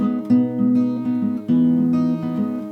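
A guitar plays a short phrase of plucked notes and a chord change, clean and close, with the notes ringing together.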